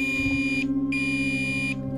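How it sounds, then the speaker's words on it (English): Radiation detector beeping at the edge of the no-go zone near the crippled Fukushima Daiichi nuclear plant: two long steady high-pitched tones separated by a short gap, loud and close over a constant low engine hum. "It just started beeping."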